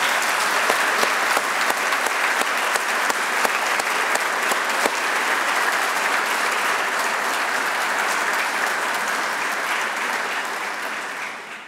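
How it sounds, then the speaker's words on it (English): A large crowd at a Fort Hood 70th anniversary ceremony applauds steadily and loudly from start to finish, a dense wash of clapping that fades slightly near the end. "Please join me in a round of applause."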